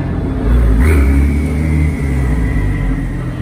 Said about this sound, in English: That is a loud Turbo S.